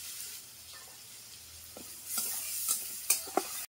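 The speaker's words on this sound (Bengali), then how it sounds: "এর মধ্যে দিয়ে দেবো আদা রসুন বাটা, সামান্য একটু জল দিয়ে দেবো" Ginger garlic paste and a splash of water going into lightly browned fried onions, a quiet sizzle that swells midway, with several sharp spoon clinks against the pan near the end.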